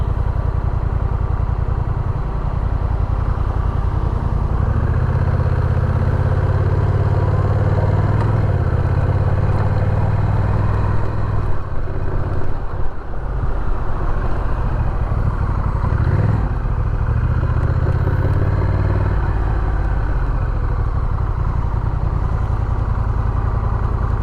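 A 2021 Honda Rebel 1100 DCT motorcycle on a commute gives a loud, steady engine drone with a deep rumble and wind roar, the pitch rising and falling slightly as it rides on without pause.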